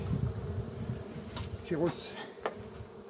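Honey bees buzz around an open hive in an apiary during syrup feeding, a steady close drone with a few brief louder passes and a single spoken word over it.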